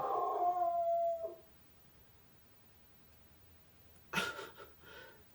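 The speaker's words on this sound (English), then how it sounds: "I don't know if you can hear my dog, but he's going crazy" A dog gives a loud, drawn-out howl at the start, then falls quiet before a few sharper yelping barks and rustles near the end.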